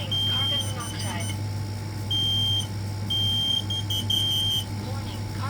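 A combined smoke and carbon monoxide alarm system under test gives repeated high-pitched electronic beeps in short bursts, with a synthesized voice announcing warnings between them and a constant low background hum.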